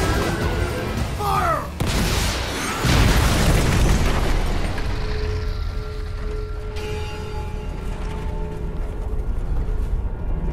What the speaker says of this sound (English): That explosion helped him actually, because it got him over the wall.